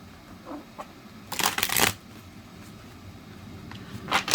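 Quiet rustling with a burst of tarot card shuffling in the middle, a crisp riffle lasting under a second, plus softer flicks before and after.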